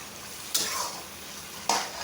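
Mutton liver kaleji masala being roasted in a pan, a steady close sizzle of frying with two sharp spatula scrapes against the pan, no voices.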